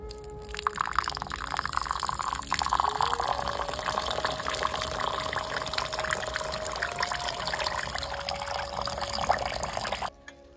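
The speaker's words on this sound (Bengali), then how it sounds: "তো ভালো করে চালটাকে ধুয়ে দিলাম।" Rice grains washed in water before making payesh or pulao, a continuous splashing, trickling wash with steady running-water sound, fairly close, lasting about ten seconds before stopping abruptly.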